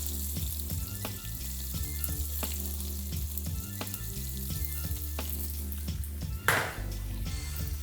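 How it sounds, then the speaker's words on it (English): Cumin seeds sizzling in hot oil in a pan, with onion and garlic added for a dal tarka; a steady, close frying crackle over a low hum, with a brief louder burst near the end. "our beautiful cumin seed, can you see? All sizzling away there. Now we put the onion and the garlic inside."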